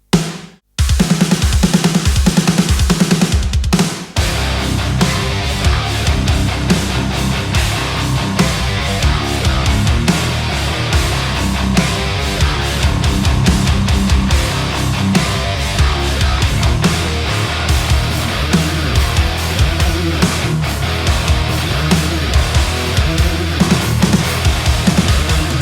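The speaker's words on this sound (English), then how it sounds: "we're blending it with the Ludwig 402 low tune snare" Full heavy-metal drum mix in which a sampled one-shot snare is layered with a low-tuned Ludwig 402 snare, the snare cracking steadily and loudly over dense kick and cymbals, alone without talk.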